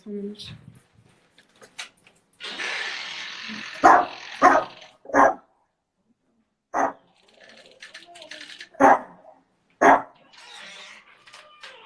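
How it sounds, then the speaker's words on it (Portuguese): A small dog barks in short sharp yaps, scattered over several seconds, alongside someone talking nearby. "A cachorrinha dela tá aqui sozinha, tava presa."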